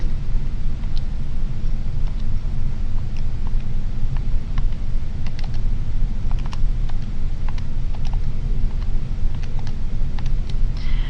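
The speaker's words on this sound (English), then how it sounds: "I'm going to type those in my calculator" Keys on a graphing calculator are tapped in a quick run of faint, light clicks that sit under a steady broadband hiss, with no talking.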